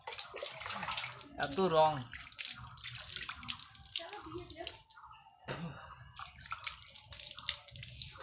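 Water splashes in bursts as someone washes Holi colour off a face, with close, uneven sloshing and dripping under a person's talking.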